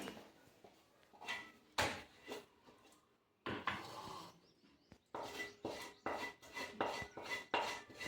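A metal spoon scrapes and clinks as fried grated sweet potato is scooped into a bowl, with a series of close, irregular knocks and scraping strokes separated by short pauses.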